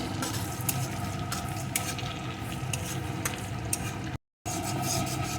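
A bay leaf and whole garam masala spices fry in hot oil as they are stirred, making a continuous crackling sizzle with light scraping strokes. The sound cuts out for a brief moment near the end.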